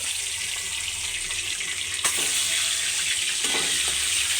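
Duck eggs hit hot oil seasoned with turmeric and set off a steady, loud sizzle with a few sharp spits and pops, and the hiss swells a little partway through.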